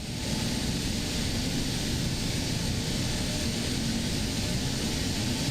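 An Embraer E175 regional jet in X-Plane 12 gives a steady, loud cabin-style engine roar with a broad rumbling hum that holds constant throughout.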